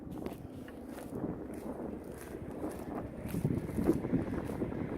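Wind gusting through an outdoor spring garden in zone 6a, buffeting the microphone with a low, rumbling rush that swells and fades unevenly across the whole stretch.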